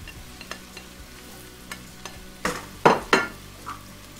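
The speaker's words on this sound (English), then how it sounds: "At this point I'm going to add the mushrooms." Mushrooms land in a pan of softened onions and are stirred as they fry, with soft scraping strokes followed by a few louder sizzling bursts as they hit the hot oil.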